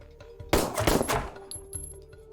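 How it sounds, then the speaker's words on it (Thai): A short, loud burst of automatic gunfire in a tactical shooter game, close and sharp for about a second, followed by quieter scattered clicks and faint game effects. "ยิง ยิง นี่ยิงเลย"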